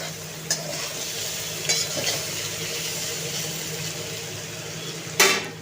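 Potato pieces salted and frying in a pan give a steady, close sizzle, with a few sharp utensil clicks against the pan near the start and the end.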